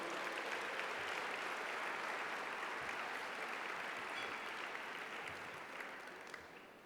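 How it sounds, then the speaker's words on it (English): Students at a school academic awards ceremony clap together in a steady, dense round of applause heard from a distance, fading slightly at the end. "So give yourselves a round of applause for going above and beyond."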